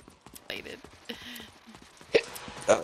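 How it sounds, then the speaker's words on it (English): A few sharp hiccups during a Fortnite match, with two or three abrupt, close catches spaced apart and a quiet voice talking around them. "Oh, the hiccups are back."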